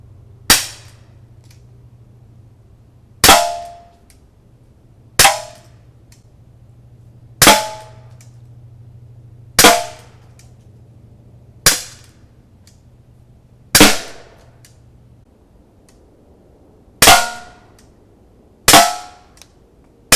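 Target shots at an empty tin can at a wild camping spot: nine sharp gun reports spaced a couple of seconds apart, each with a ringing decay, over a low steady hum and no talking.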